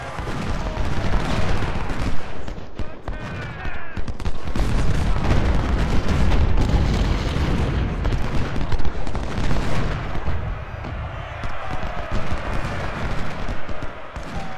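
Cannon and artillery fire in the Civil War strategy game Ultimate General: Civil War, a dense barrage of booms and crackling gunfire rolling continuously at high volume.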